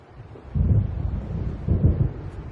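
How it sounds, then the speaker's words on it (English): Thunder from an approaching storm in the game Alan Wake rolls in as a deep, low rumble, swelling twice into heavy booming surges over a soft windy hiss, close and full. "It seems there's a storm coming."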